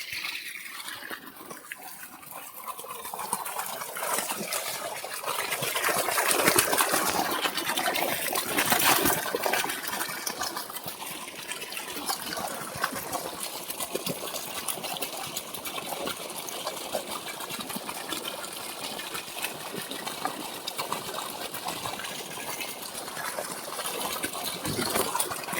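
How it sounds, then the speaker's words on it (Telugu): Water gushes steadily out of a farm borewell in a village, a continuous splashing flow heard close up for a long stretch with no talk. "ఇదో నీళ్ళ సౌండ్ వినండి ప్రశాంతంగా"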